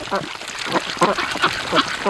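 Pekin ducks quacking close by, a string of about six short nasal quacks in an uneven rhythm, loud and clear over faint background noise.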